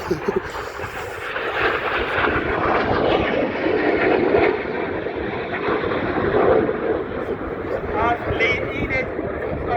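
Red Arrows display jets of the RAF roar past at the Cosford air show, a loud, sustained rushing engine noise that swells and lingers for several seconds, with a commentator talking over it.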